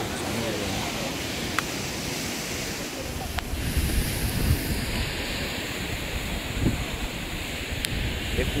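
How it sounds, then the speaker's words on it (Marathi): Rough sea surf at a coastal shore in rainy weather roars steadily, with heavy wind noise buffeting the microphone and a voice speaking faintly underneath. "समुद्र बघा किती खवळलं आहे, खूप लाटा येतात"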